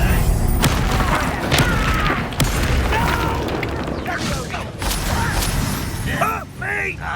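Bombarda spell blasts in the Hogwarts Legacy video game, several booming bursts amid dense magical combat effects and music, loud and continuous, with a voice shouting spell names over the action.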